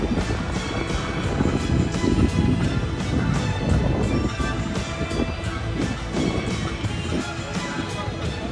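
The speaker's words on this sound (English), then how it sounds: "It's windy today." Strong, steady wind roars across the microphone, buffeting it continuously, with faint voices and street activity underneath, around Haymarket and Faneuil Hall in Boston.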